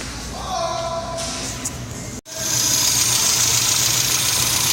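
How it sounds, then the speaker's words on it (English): Engine of a 1989 Isuzu Trooper RS idling with some lifter tick, a steady close mechanical hum that breaks off briefly and resumes with a brighter, louder hiss, with no voices. "Has some lifter tick."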